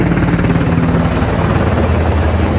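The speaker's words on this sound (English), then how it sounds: "This is a video of a helicopter." A helicopter carrying water to a wildfire in a neighborhood roars loud and close, its rotor chop and engine drone steady and unbroken throughout.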